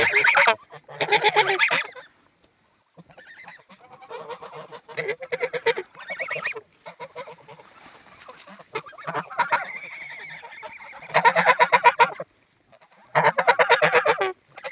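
Geese honk in loud, close bursts, several harsh calls in uneven groups separated by short pauses, with softer honking and rustling in between.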